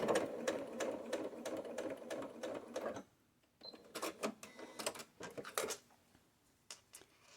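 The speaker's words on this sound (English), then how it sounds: "Go ahead and sew forwards, and I go a little bit slow over the tab area, and then I back stitch all the way across." A sewing machine stitches a fabric tab on a water bottle sling bag. It runs in a steady burst for about three seconds, then comes in short stop-start bursts while back stitching, close up with no voices.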